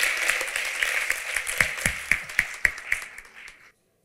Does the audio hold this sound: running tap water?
no